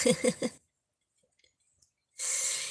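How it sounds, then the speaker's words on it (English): Crinkly craft paper handled during a crafting session gives a short, bright rustling burst near the end, after a brief voice and a long quiet pause. "Crinkly paper."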